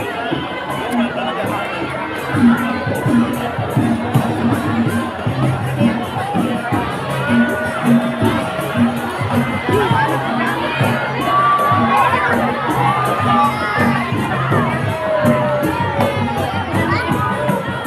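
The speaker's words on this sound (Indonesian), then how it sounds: "Boleh berikan tepuk tangan yang luar biasa untuk seni bangreng" Outdoor crowd at a Garut cultural carnival procession, loud and continuous, with children shouting and cheering over a dense babble of voices and steady rhythmic music in the background throughout.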